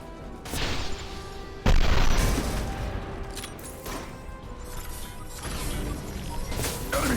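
Crates of unstable cargo blow up during a Mass Effect firefight, a loud boom at about 1.7 seconds over a constant rumble of combat noise with several sharper hits and crashes before and after it.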